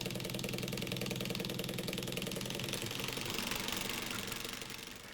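Motorized Lux-Modellbau desktop automatic wheel cleaner for model railway rolling stock running in a workshop, a loud, steady, close mechanical buzz and whir with rapid rattling that holds even then eases slightly at the end.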